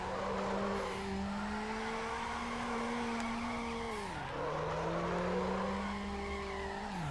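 A car drifting in Need for Speed: Underground, a long sustained tire squeal with a droning engine tone that wavers and dips midway, then holds again, loud and steady with no talking.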